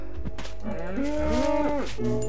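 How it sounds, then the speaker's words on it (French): A cow in the Minecraft video game gives a single long, wavering moo, loud and close, over a faint steady background hum; no sheep bleat stands out. "concert de moutons là. Et de vaches."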